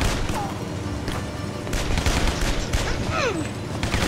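Gunfire in a zombie video game, rapid bursts of shots crackling over game sounds, with a voice talking briefly in between.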